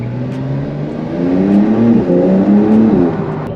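A Porsche 911 Carrera revs and accelerates on an open road, its engine note climbing steadily through the gears, loud and close, alone without voices.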